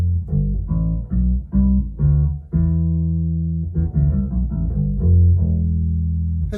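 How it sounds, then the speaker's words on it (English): Electric guitar plays a riff in E Phrygian mode, a run of loud, chugging low notes with short pauses and a sustained chord in the middle, continuous and close with no talking. "And the Phrygian mode kind of sounds like this."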